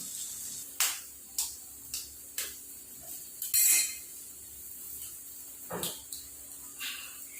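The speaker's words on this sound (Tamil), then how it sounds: "இப்போ நான் முதல் முட்டையும் உடைக்க போறேன்." Egg being cracked with a knife while cooking soya curry, a series of sharp metallic taps spaced about half a second apart, close and crisp, with a brief rustle in between.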